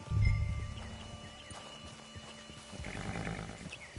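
Horse hooves clip-clop faintly in the Red Dead Redemption 2 game, a soft, uneven run of steps set against quiet ambient sound with a low thump at the start.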